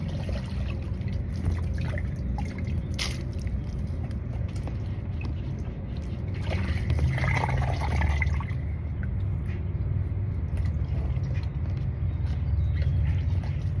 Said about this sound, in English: Now I'm going to dip these in regular water because they're all soapy